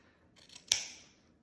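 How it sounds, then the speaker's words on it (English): Dull scissors snip through craft material for a Valentine's Day tiered tray, a few soft rustling shears followed by one sharp, crisp cut that fades quickly, close and alone without talk. "I still need to buy sharper scissors"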